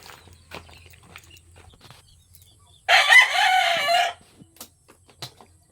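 A rooster on a rural farm gives one loud, close crow lasting about a second, standing out against quiet outdoor background with scattered faint rustles and footsteps.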